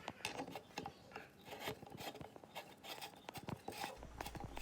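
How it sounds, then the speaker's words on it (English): Threaded inserts are worked into the bottoms of wooden stool legs for a fruit stand, giving quiet, irregular rasping and rubbing scrapes at close range. "I'm just installing the threaded inserts to the bottom of the leg so the bolts could go into it"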